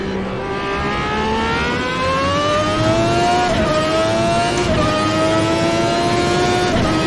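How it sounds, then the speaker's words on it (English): A 1991 Formula 1 car lapping the old Imola circuit, its engine screaming loud and close in one sustained high-pitched howl whose pitch climbs steadily, broken by brief dips around the gear changes. "While we are doing some laps at Imola, old school Imola, with the big scary downshifts and curbs."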